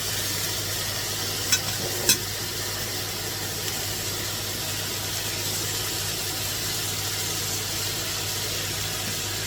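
Cherry tomatoes frying in a pan with bay leaf and herbes de Provence, giving a steady, fairly quiet sizzle with a low hum underneath and two brief clicks early on.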